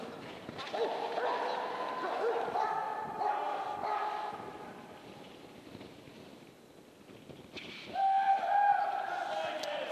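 Dog barks and yips during K-9 handler training at a conference, a steady run of vocalizing with brief whimpers and a louder burst near the end, mixed with people talking nearby.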